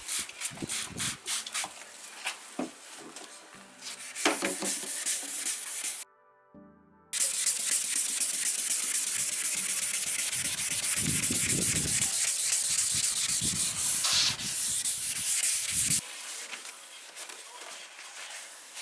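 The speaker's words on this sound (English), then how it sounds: "Use 2000 grit sandpaper and spray plenty of water." Wet sanding of a car headlight with 2000 grit sandpaper and sprayed water, steady hissing sprays and scrubbing strokes filling most of the stretch, broken by a short silent gap, close and fairly loud.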